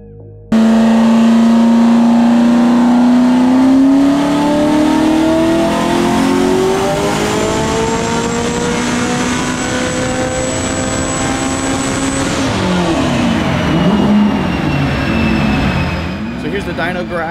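A turbocharged Ford Mustang on a chassis dyno makes a loud, close, sustained wide-open pull, its engine note climbing steadily in pitch for several seconds before dropping off as the throttle closes.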